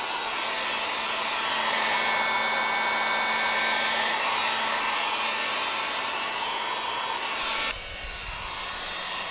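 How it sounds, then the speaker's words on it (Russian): A handheld heat gun blows steadily and loudly while warming the door surface of a LADA Vesta SW estate outdoors, a continuous whooshing roar that drops in level near the end as it is moved or switched down. "Далее потребуется строительный фен."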